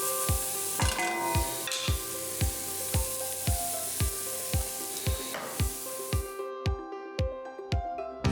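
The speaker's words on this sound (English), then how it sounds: "a little bit more oil to the skillet. Add in those onions." Onions sizzle in hot oil in a skillet, a steady close frying hiss broken by regular clicking taps that continue as the sizzle thins toward the end.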